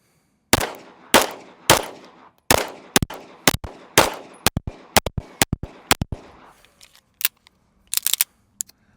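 Springfield Armory Prodigy pistol emptying a magazine outdoors, about twenty loud sharp gunshots with echoing tails, first in steady spaced shots, then faster pairs and clusters, and a final quick burst, with no talking.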